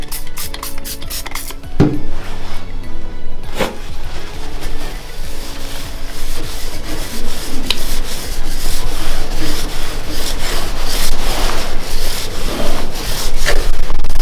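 Old oil and light rust being rubbed off a sword blade, a steady scrubbing and rubbing sound with scraping strokes running continuously and fairly loud throughout, with no talking.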